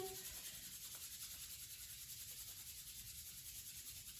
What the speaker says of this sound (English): start rubbing the hands together, building up a lot of heat and friction